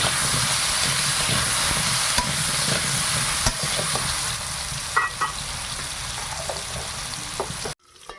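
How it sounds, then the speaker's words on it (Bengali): Potato pieces fry in hot oil with salt and turmeric in a village kitchen, giving a steady loud sizzle with a few stirring clicks before it cuts off abruptly near the end. "লবণ হলুদ দিয়ে আলুটা ভালো করে ভেজে নিই"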